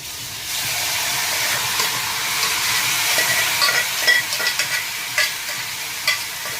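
Gram flour tempering sizzles steadily in a hot pan for colocasia curry, a continuous frying hiss with occasional louder pops and stirring scrapes, close and alone.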